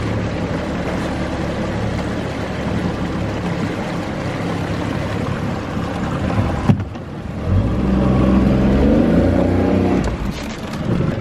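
Boat engine idling and churning steadily while a boat docks on the Clermont lakes, a low continuous rumble that briefly drops and then swells louder as the boat maneuvers.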